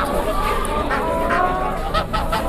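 Chickens at a crowded poultry market in Campina Grande, Brazil, cluck and squawk in short bursts amid a constant din of market noise and people talking nearby.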